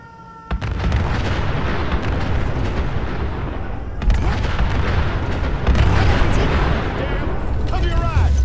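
Continuous gunfire and heavy explosions from a Fallout 4 Sim Settlements 2 battle against gunners, loud and dense throughout with repeated booms and rapid shots, voices speaking over the combat.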